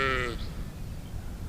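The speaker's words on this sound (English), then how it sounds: "I've had the sheep to keep us company." A single sheep on a farm gives a short, loud bleat close by, followed by quiet outdoor background.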